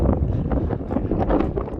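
Strong wind buffets the microphone on the summit of Dinara, Croatia's highest peak, a loud continuous low roar with gusty surges and no talk.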